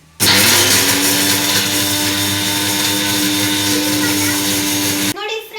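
A kitchen mixer grinder runs steadily for about five seconds, grinding gongura leaves with a loud, even motor whine that starts abruptly and cuts off just as suddenly.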